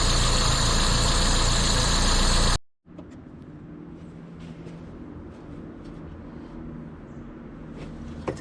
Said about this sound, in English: Once it starts and idles, I have to just leave it idle until it warms up enough to drive.